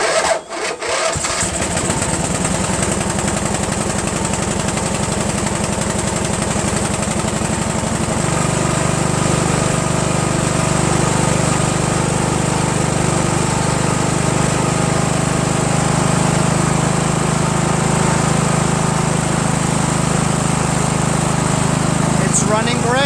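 A Craftsman mower's Briggs & Stratton 14.5 OHV engine with a Walbro carburetor runs off choke, loud and close, with a steady continuous drone that shifts pitch slightly partway through. Someone talks over it.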